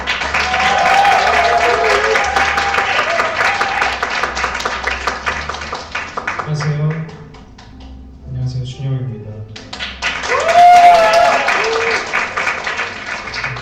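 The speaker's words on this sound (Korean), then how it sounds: "나오실 때 큰 박수로 환영해 주세요." A book concert audience gives a big round of applause to welcome a singer, loud sustained clapping that dips while a performer greets the crowd, then surges back up.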